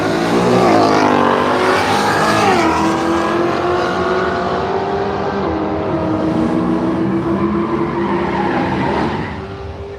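A Ford Mustang and a creamy beige Holden Torana drag racing at Willowbank Raceway, engines roaring loud and close with a rising pitch through the gears and tyre squeal, sustained for the full stretch and easing slightly at the end.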